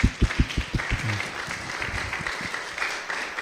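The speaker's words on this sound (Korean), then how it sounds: "박수합시다." A church congregation claps after a choir's singing at a Sunday service. It opens with a few distinct, loud claps that swell into dense, sustained applause across the room.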